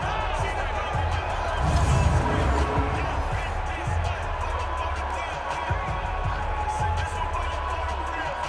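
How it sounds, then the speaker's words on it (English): Stadium crowd noise roars steadily inside the Dome during a Madden 20 NFL game between the Ravens and Saints, a dense sustained swell that peaks briefly early on and stays loud throughout, with play-by-play commentary over it. "The crowd here in the Dome making things difficult."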